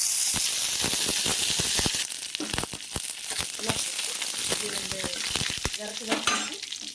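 Sustained crackling sizzle of mustard seeds, dried red chillies and curry leaves in hot oil for thoothuvalai rasam, close and steady, with scattered sharp pops and faint stirring throughout.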